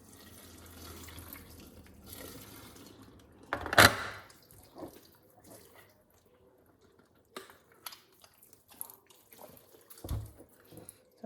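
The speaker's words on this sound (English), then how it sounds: "And now we're just going to pour some more water in there again." Tap water runs and splashes into a raw turkey for Thanksgiving dinner, with a sharp gush, scattered drips and sloshes, and quieter stretches between.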